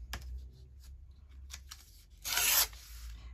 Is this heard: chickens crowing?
no